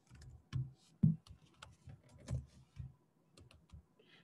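A name is typed on a computer keyboard, heard as a string of quiet, close, irregular key clicks with short pauses between them.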